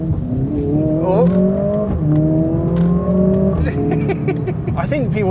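Mercedes-AMG CLA 45 S accelerating hard, its engine note climbing through the revs in rising sweeps with a quick gearshift, loud and close inside the cabin, with a brief voice over it.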